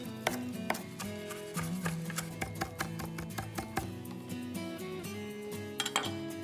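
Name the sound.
knife mincing fresh parsley and dill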